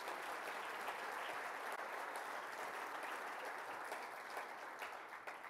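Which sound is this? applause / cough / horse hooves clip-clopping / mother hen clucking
applause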